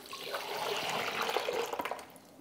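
Water, about two to three cups, poured into the open top reservoir of a Mr. Coffee coffee maker: a steady close splashing trickle that thins into a few separate drips at the end, with no talking.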